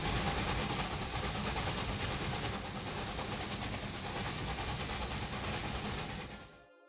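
A train rolls along in the railway management game Railway Empire 2, a steady, loud rumbling hiss with faint clattering that runs for about six seconds before cutting off abruptly.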